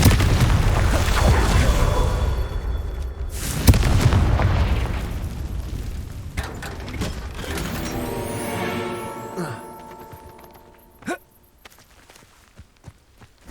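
Confringo fire spells exploding in the Hogwarts Legacy video game: a string of heavy booms and bursts with rumbling debris over about ten seconds, then a few sharp isolated pops as the action settles.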